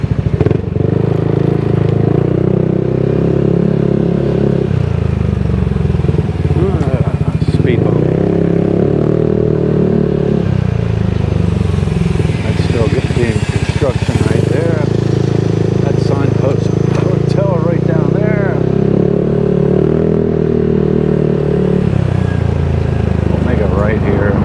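A motorcycle rides through the streets of Angeles City in the Philippines, its engine rumbling loud and near with shifting revs and road clatter, and someone talks over it throughout.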